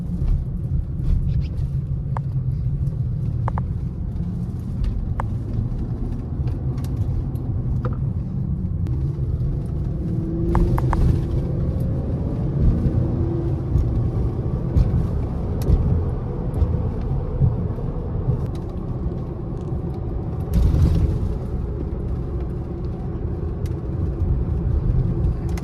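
A lifted truck with a 9-inch lift cruises through downtown Houston at night, its engine giving a steady low rumble throughout, with road noise and a few brief clunks and rattles from inside the cab.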